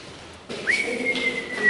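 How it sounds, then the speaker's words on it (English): A person whistles in an echoing, dungeon-like space: a single clear, close tone that rises quickly and then holds steady for about a second, ending slightly louder. "You do your lottery whistle."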